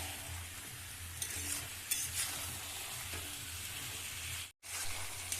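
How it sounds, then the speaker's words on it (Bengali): Bottle gourd being sautéed with salt and spices in a pan, a constant sizzle broken by a few stirring scrapes, close but quiet, cutting out briefly near the end, no talking. "লাউটার সাথে ভালো করে কিছু সময় কষিয়ে নিতে হবে"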